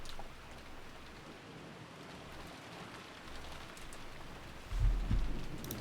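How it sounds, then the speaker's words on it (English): Steady rain hisses down in the Umineko game scene, a soft continuous wash that swells louder near the end with a low rumbling burst like distant thunder. "Oh, it definitely looks like it's raining."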